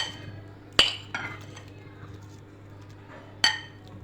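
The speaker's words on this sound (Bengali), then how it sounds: "সালাডটা মাখানোর জন্য আমি বলে নিয়ে নিচ্ছি টমেটো" Chopped tomato and apple being tipped into a bowl for an apple salad, with two sharp clinks of utensil against dish a few seconds apart and softer rustling between, close and fairly quiet.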